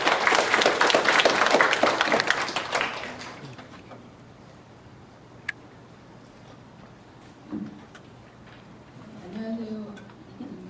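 A church congregation bursts into loud applause for a deacon coming forward to give testimony. The clapping lasts about three seconds and then fades to a quiet room with a few small knocks and murmurs.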